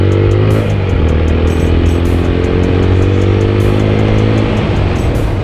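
A TVS Apache RTR motorcycle in sports mode idles and revs loudly up close, its exhaust a strong, steady buzzing note with rising and falling pitch and rhythmic pulses.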